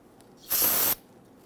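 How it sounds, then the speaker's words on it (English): One short spray of solvent onto brake slide pins during a front brake job on a 2011-2023 Dodge Charger, a bright hiss lasting about half a second in a quiet setting. "If you want, you can use some spray solvent."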